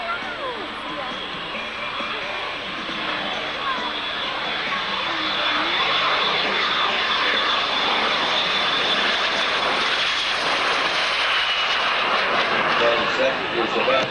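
Sopwith Pup WWI biplane flying at an air show, a steady droning engine that grows slightly louder and stays continuous, heard from a distance with speech over it.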